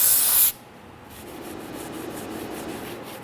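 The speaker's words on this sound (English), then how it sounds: "I'm going to go around and clean the surface of where our gasket is going to sit. We want this to be clean of any residual oils or greases" A brief loud spray hiss from a cleaner aimed at a 1997-2006 Jeep Wrangler rear axle gasket surface, then a soft, steady rubbing and wiping as oil and grease are cleaned off.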